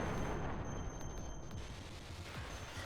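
Missile fire in the Blue Revolver shooter game comes as a dense, continuous barrage of booming blasts and crackling bursts, loud throughout.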